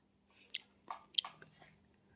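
Someone chews a mouthful of kardai (safflower leaf) bhaji, a few soft crunchy bites and wet chewing sounds close up in a quiet room.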